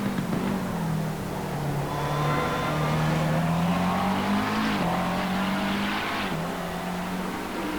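A McLaren 650S GT3 race car at Circuit Zolder brakes hard, its engine note falling and blipping through downshifts, then rising again, loud and close throughout with no talk over it.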